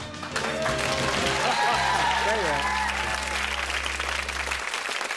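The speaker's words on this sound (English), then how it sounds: "Give her another round of applause." A studio audience at a 1992 Blockbusters game show gives sustained, dense applause, while a voice speaks over it throughout.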